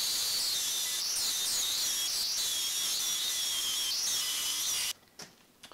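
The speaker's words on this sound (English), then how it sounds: "if we grind up to that line" A grinder works a piece of 2x4 wood up to a scribed line, giving off a steady, high, rasping whir with slight wavers, then cutting out abruptly, followed by a few faint knocks.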